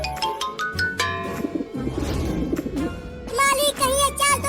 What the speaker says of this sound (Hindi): जैसे ही सारे कबूतर यहाँ दाने खाने के लिए आएंगे